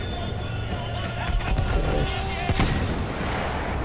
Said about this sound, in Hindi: तो मैं इसी गन से उड़ाऊँगा